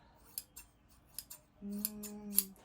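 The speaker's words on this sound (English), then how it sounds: "It's time for cutting." Scissors snipping through cheap fabric for a costume: a handful of crisp, close cuts spaced apart, with a soft low hum joining in the second half.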